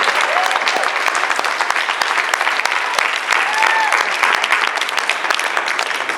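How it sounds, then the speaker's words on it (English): An audience at a business event claps in loud, sustained applause, dense and steady throughout with no pauses. "So give them a round of applause for those guys."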